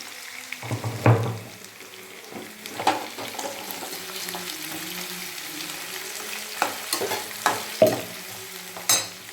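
Dried turkey berries (sundakkai vathal) frying in oil in a pan for vathal kuzhambu, a soft steady sizzle with intermittent scraping stirs and clinks of a spoon against the pan, close by.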